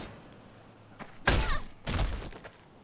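In a video game, the sheath of the Divine Demon Katana strikes as a blunt weapon, giving two heavy thudding impacts about half a second apart, each with a brief crunchy tail, over a quiet background.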